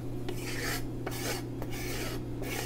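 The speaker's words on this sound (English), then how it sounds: "I'm going to take a nice rolling pin and I'm going to begin to roll the dough out" Rolling pin pushing fresh pasta dough across a floured surface, a close, fairly quiet rasping rub in repeated strokes over a steady low background hum.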